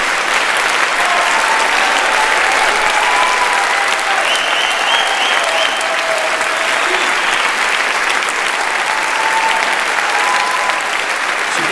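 Sustained, loud audience applause fills a big band concert hall, a dense steady wash of clapping from a large crowd that holds at full strength throughout, with faint stage sounds mixed in beneath.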